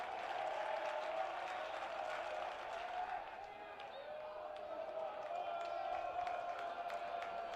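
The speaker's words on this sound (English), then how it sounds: "Clapping on both sides of the field here in the student sections" Students in the stands on both sides of the field clap steadily during a high school Class 3A championship baseball game, a continuous crowd patter with a background hum of voices.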